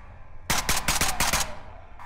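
Automatic gunfire in the co-op shooter SCP: Pandemic, a burst of about six or seven rapid, loud, close shots lasting about a second, then a pause and the start of another shot.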